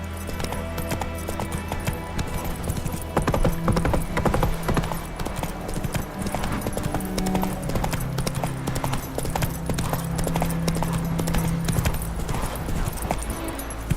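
Roach, the horse from The Witcher 3, gallops in a rapid, continuous hoof rhythm throughout, loud and close, layered over a constant music bed with no speech.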